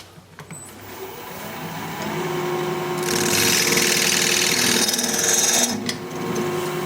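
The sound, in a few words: wood lathe hollow-form cutter turning wood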